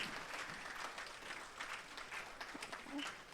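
An audience applauds after a talk on biomimicry, a quiet, fairly distant patter of clapping with some voices mixed in beneath it.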